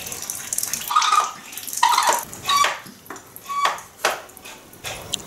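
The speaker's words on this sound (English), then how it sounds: "pump out all the water until the bottle's empty again" Water pumped out of a Lifesaver filter bottle in bursts, splashing and gurgling with each stroke, fairly loud and close, with plastic clicks from the pump between gushes.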